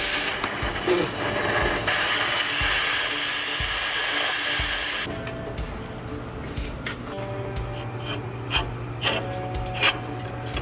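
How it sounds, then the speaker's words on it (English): A cutting torch roars with a loud, harsh hiss as it burns through an old U-bolt on a vehicle's rear axle, then cuts off abruptly, leaving quieter shop clatter and metallic taps. "Using the torch makes short work of removing the old U-bolt."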